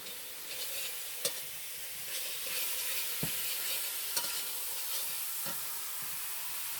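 Spice paste being stir-fried in oil over low heat, a soft, even sizzle with a few sharp spatula taps and scrapes against the pan, quiet and close, no voices.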